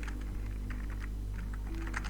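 Fast, even keystrokes patter on a computer keyboard, close and steady, over a low background hum with no talking.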